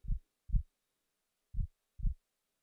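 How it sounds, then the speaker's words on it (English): Slow, steady heartbeat heard up close, two pairs of soft low thumps in a quiet space with no other sound. "Can you feel my heartbeat?"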